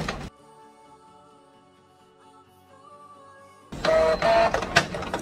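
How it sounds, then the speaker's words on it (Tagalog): A Canon printer with a double-image shadow fault prints sample letter documents, starting with a quiet mechanical hum and whine and then bursting into loud feed and roller clatter near the end, with no voices. "ito po ang piniprint natin, sample documents sa letters, para makita nyo yung actual problem din ng printer"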